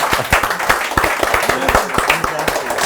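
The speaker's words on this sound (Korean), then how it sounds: "두 분께 큰 박수 부탁드리겠습니다" Applause from an audience at a forum, a dense patter of clapping with some sharper individual claps, voices mixed in underneath.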